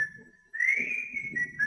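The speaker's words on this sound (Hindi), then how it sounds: "वो आ रहा कमीना सीटी बजाता हुआ" A man whistles as he approaches, one long sustained whistled note that rises slightly and then holds, close and clear over faint background noise.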